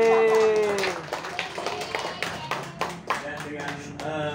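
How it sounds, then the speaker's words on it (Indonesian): Audience clapping at an engagement ceremony, a scattered patter of hands over a few seconds, mixed with voices and speech, moderately close. "Kita kasih tepuk tangan."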